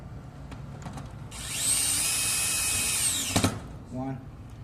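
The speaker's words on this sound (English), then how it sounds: "Now what we will do is we will put the screws back." A power screwdriver drives screws into a panic-bar door handle during a lock change. It gives one sustained, close, high-pitched whir of a couple of seconds, then stops with a clunk. Brief talking comes before and after.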